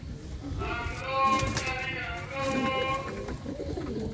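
A pigeon coos in low rolling calls close by, partly under a voice talking.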